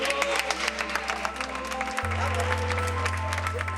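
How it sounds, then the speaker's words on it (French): Applause for a newly baptised child at a Gitan baptism in Agde, steady clapping from a gathering with a low hum and faint voices underneath. "Est-ce qu'on peut applaudir pour Juliane?"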